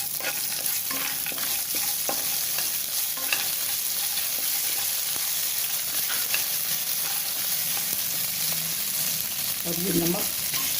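Diet mixture namkeen roasting with curry leaves in a pan gives a loud, continuous close sizzle, with scraping and stirring scratches throughout and a brief louder crackle near the end.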